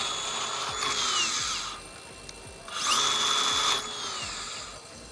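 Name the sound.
Hilti AG-60 angle grinder running then braking to a stop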